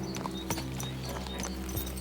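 Horse hooves clip-clop in a steady rhythm in Kingdom Come Deliverance 2, close and distinct over a constant low game-world hum.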